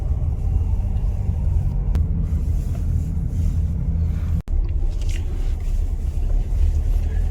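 A passenger car climbs the steep access road toward the summit of Gayasan in South Chungcheong, its engine a steady low rumble with wind buffeting throughout and no speech.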